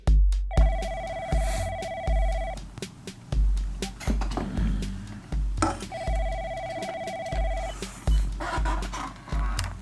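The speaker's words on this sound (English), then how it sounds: "I get a phone call" A telephone rings in two long electronic trills separated by a pause, clear and fairly loud over assorted clicks and thumps in a room.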